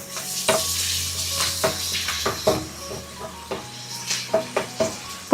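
Pappadam pieces frying in hot coconut oil in a pan, a bright close sizzle with repeated sharp scrapes and taps of a spoon stirring, no voices.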